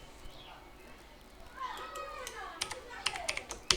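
Quick, uneven clicks of a computer keyboard being typed on, growing denser toward the end and close-miked, with faint background noise underneath.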